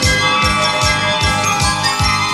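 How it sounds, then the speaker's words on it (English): Jingle Bells music with bright sleigh-bell jingles from the He-Man and She-Ra Christmas special, loud and continuous with a rhythmic beat throughout. "I bet you never thought you'd hear Jingle Bells and He-Man together"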